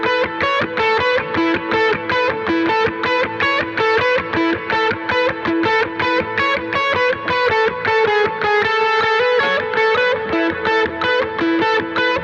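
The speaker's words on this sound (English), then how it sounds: "we can then open things up with a syncopated 16th note pentatonic pattern using palm muting" Electric guitar playing a syncopated sixteenth-note pentatonic pattern, palm muted and drenched in delay and reverb, a steady, dense rhythmic stream of plucked notes, loud and continuous with no talking.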